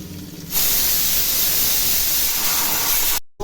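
Sliced onions tipped into hot oil in a pan for veg pulao set up a sudden, loud, steady sizzling hiss that holds for about three seconds, then cuts out briefly before resuming.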